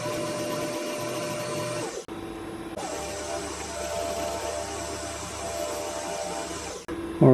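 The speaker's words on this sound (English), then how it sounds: "We'll clean this end up with a bit of a chamfer and that'll be the body done." A steady machining run on a lathe as a chamfer is cut on the end of a Webster model engine body, with continuous broadband cutting and motor noise, two brief pauses, and no talking.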